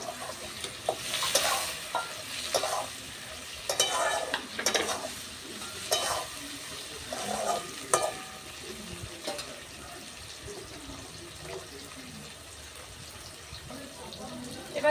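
Tomatoes sprinkled with salt fry in a pan, giving a soft, steady sizzle broken by several scraping stirs of the spoon at irregular intervals, close and moderately quiet.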